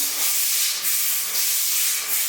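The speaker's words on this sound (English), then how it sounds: "We're gonna scrub it, rinse it, scrub it, rinse it, scrub it, until we have it all good to go here." A shower surface is scrubbed in a steady, close, hissy rubbing with a few rhythmic strokes surging and easing across the short stretch.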